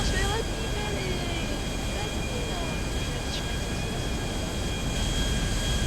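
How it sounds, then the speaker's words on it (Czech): An airplane engine drones steadily in flight inside a flight video game, a constant broadband roar with a faint whine, continuous and unchanging throughout. "poprvé letím v takovém letadle jako tohle"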